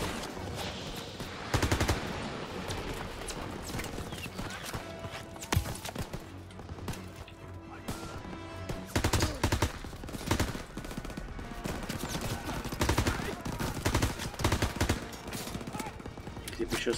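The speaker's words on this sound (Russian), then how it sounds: "Ух ты, уже пулемет работает." Machine gun fire rattles in Call of Duty WW2 during a beach assault, rapid bursts and scattered shots over constant battle noise at moderate volume.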